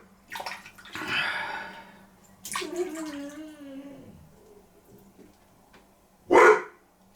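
A dog barks a few times nearby during a wet shave at home, short sharp yaps with a whining tail, while running water from a tap or basin comes and goes in the background.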